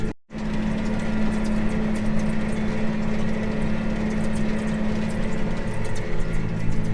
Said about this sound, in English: But this tractor is just having a heck of a time pulling it right now.